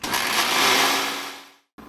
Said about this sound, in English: turn my blender on,